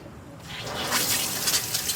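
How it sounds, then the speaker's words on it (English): Kitchen tap turned on while processing butchered chickens, water gushing steadily into a sink at close range, starting abruptly after a brief quiet moment and continuing as a broad hiss. "Turn on the water. The water turns on."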